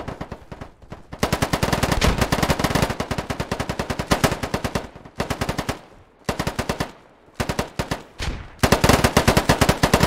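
Rapid automatic gunfire in a shooting video game, long bursts of fast repeated shots separated by brief pauses, loud and close with no talk.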